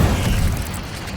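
The Incendio fire spell is cast in the Hogwarts Legacy video game, giving a loud, close, low whooshing boom that swells briefly and fades within about a second.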